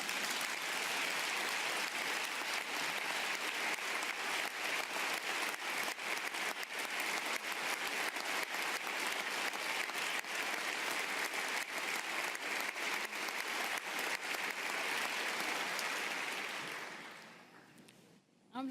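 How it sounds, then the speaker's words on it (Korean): A large audience giving a standing ovation after a line in a speech on democracy for a new generation, dense sustained applause filling the hall for about seventeen seconds before tapering off abruptly at the end. "이렇게 제가 말할 때마다 기립박수를 치시면 곧 피곤해지실 수 있어요"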